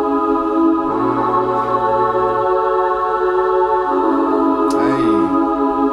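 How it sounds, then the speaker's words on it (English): Synthesized choir from Omnisphere, holding sustained, layered vocal-like chords that shift pitch, with a steady, loud, airy wash over a faint low bed and no talking. "It's a choir, same from Omnisphere. Goes like this."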